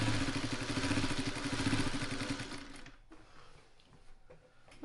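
A sewing machine with a walking foot stitches a quilt carrier, running in a fast, steady whirring clatter for about three seconds before stopping, leaving quiet room tone.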